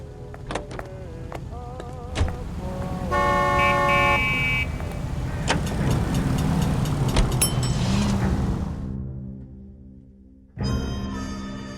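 Car driving in the game L.A. Noire, an engine hum building and holding with tonal horn-like and music layers over it, then fading, with a sharp restart near the end.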